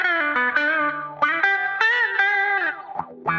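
Humming voice run through a distortion effects unit, a sustained buzzy, harmonic-rich tone that bends in pitch across several short phrases, loud and close, with no talking over it.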